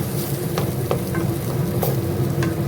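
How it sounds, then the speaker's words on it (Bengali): An egg frying with Schezwan sauce and fried onion in a pan, a steady close sizzle broken by a few sharp utensil clicks and scrapes, with no voices. "এপাশে স্যাজওয়ান সসের সঙ্গে ডিমটা কেটে"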